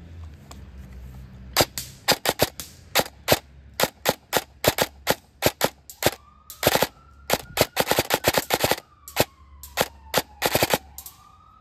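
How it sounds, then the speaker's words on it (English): Rapid bursts of gunfire from a high-rate gun ring out alone and close, with loud, sharp shots packed into quick irregular volleys and only brief pauses between them. "See how faster that is than the other gun?"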